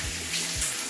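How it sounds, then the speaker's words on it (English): A shower running in a Finnish sauna gives a steady, close hiss of spraying water with a few low thumps underneath, and no one speaks. "right now I'm taking my shower"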